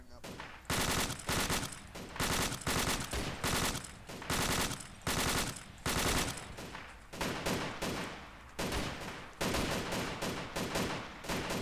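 Rapid machine-gun bursts in the Arma 2 military game come loud and close, a long string of sustained automatic fire broken by brief pauses, with faint voices under the shooting.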